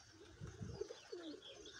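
Soft, low pigeon coos sound a few times over faint background noise, close but quiet.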